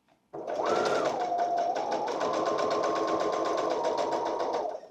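A sewing machine stitches the lining of an hourglass corset dress in one continuous close, loud run of rapid even stitching, starting abruptly and stopping after a few seconds, with a pitch shift early on as the speed changes.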